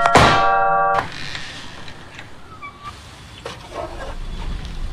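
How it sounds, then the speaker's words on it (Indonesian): A bell rings out sharply with a bright metallic clang as a door is opened, then fades into a quiet room tone with faint shuffling and a few small knocks. "Frankie kembali dikejutkan oleh suara bel yang berbunyi saat ia membuka pintunya"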